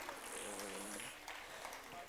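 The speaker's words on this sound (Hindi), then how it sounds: "15 लोग इस मंच पर हैं और इतनी कम तालियां।" Thin, scattered clapping from a small audience at a literary and journalism award ceremony, faint and brief beneath a speaking voice.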